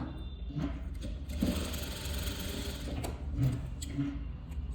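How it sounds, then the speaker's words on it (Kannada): A sewing machine runs stitches along the side seams of a blouse, a close, steady mechanical whir with brief pauses and restarts partway through, heard alone without speech. "ಈ ಕಡೆ 2 ಸ್ಟಿಚ್ ಆಯಿತು, ಈ ಕಡೆನೂ ಕೂಡ 2 ಸ್ಟಿಚ್ ಹಾಕ್ಕೊಳ್ಳೋಣ"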